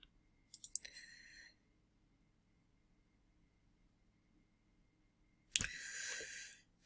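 Two separate bursts of mouse clicking in a web browser, a quick run of clicks near the start and another short flurry after a long quiet pause, close and crisp.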